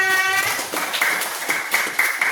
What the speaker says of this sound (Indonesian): Beri tepuk tangan untuk Iva.